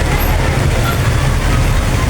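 Steady road traffic rumbles close by in heavy rain and flooding, a low continuous drone of passing vehicles mixed with a broadband wash of noise.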